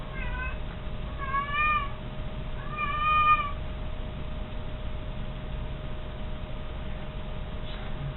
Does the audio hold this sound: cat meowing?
yes